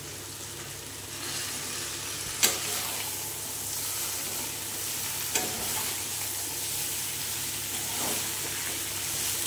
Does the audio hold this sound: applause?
no